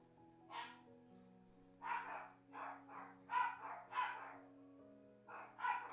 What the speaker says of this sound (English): my dogs are gonna be barking for a little bit